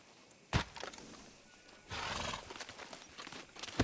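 A horse in the Red Dead Redemption 2 video game snorts and whinnies at fairly low volume, with a couple of sharp hoof or movement thumps and a longer breathy neigh in the middle.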